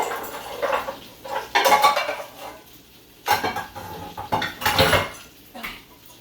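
Pots and pans clatter and clank while pasta is being cooked, metal cookware and utensils striking in several loud, irregular bursts separated by brief quieter gaps, with no voices.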